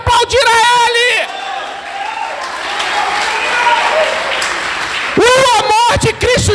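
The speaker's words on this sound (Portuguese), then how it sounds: "Levante as mãos e comece a aplaudir a Ele." A church congregation applauds in a sustained, dense wash of clapping in the middle, while a preacher's amplified voice speaks at the start and end.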